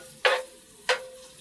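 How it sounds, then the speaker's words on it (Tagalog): Garlic sautés in a pan, with two short sizzling, scraping stir strokes rising sharply and fading against a quiet background. "On the same pan, magigisa lang tayo ng bawang."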